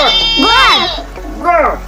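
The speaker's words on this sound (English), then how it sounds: "Goat." Goat bleats twice, a wavering tremulous cry followed by a shorter second call, close and clear over a steady low hum.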